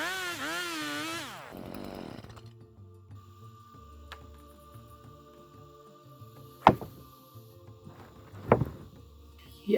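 A Stihl MS 182 chainsaw at work on a 38 cm mango wood plank revs loudly and winds down within the first second or two, followed by quieter knocks and thuds of wood being handled.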